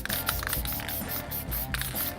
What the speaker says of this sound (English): so we're gonna satin spray down the Venom body